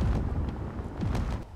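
A WYCC ship keeps firing in a space combat game, setting off a quick run of deep, rumbling explosion booms close together, heard alone without talk.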